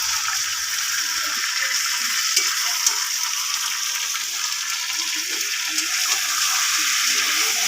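Chicken curry with meat masala sautéing in a pan, a steady close hissing sizzle with soft stirring scrapes running throughout and no talk.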